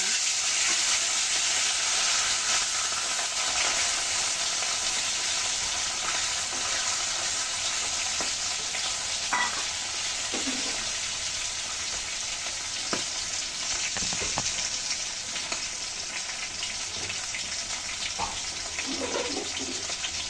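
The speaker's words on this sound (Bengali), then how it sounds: "বন্ধুরা, আমি কড়াইতে তেল দিয়েছি, দেখুন তেল গরম হয়ে গেছে।" Hilsa fish fry in hot oil in a wok with a continuous, crackling sizzle. Occasional utensil clinks and stirring sounds break through now and then over about twenty seconds.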